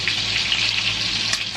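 Pork and beef mince meatballs with spring onion, carrot, breadcrumbs and soy sauce frying in a pan, a close, loud, continuous sizzle with small pops.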